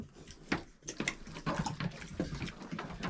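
Piglets eating and drinking water in a pen, with wet splashing and slurping mixed with soft snuffling and grunts in irregular bursts, close and moderately loud.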